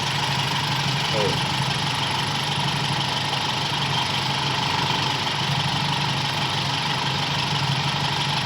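A Toyota Kijang engine idles steadily while warming up, a constant mid-pitched hum and vibration with no change in revs, while someone talks over it.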